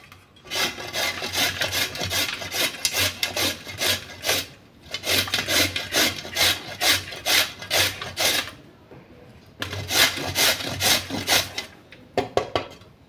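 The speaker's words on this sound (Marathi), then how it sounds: "असं हे गाजर किसून घ्यायचं" Peeled carrots grated by hand for carrot halwa, a steady rasping scrape in quick rhythmic strokes, in three bursts with short pauses between, close and fairly loud.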